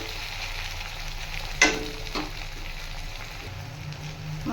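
Tomatoes fry in a pan with a constant close sizzle, marked by a couple of brief utensil knocks from stirring.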